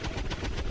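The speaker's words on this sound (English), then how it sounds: "missing with the heavy machine gun" Heavy machine gun fire in XCOM 2 rattles out as a rapid, loud burst of repeated shots with an even rhythm, dense and close, with no voices over it.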